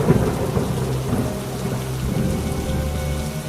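Heavy rain pours steadily while deep thunder rumbles through it, a loud, dense wash of falling water and low booming with no voices.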